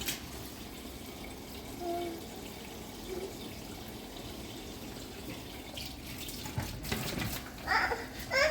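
A kitchen or bathroom tap runs steadily at close range, a soft continuous hiss of flowing water with light splashing and a few brief clatters toward the end.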